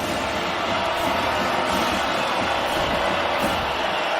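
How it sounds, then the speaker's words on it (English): Roaring football stadium crowd at a Texas Tech versus Wyoming college game, a dense, steady wash of cheering and noise from thousands of fans, sustained and loud throughout without a break. "Crowd on their feet."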